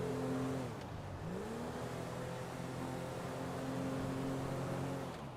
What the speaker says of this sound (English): It sounds like it's so bad trying to get into gear. Like, gears grinding and everything.